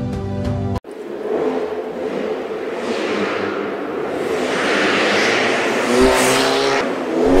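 A Ford Mustang EcoBoost with a four-cylinder engine drives past loudly after a brief opening tone, its engine note and tire noise swelling into a steady, rising roar with a whooshing pass near the end.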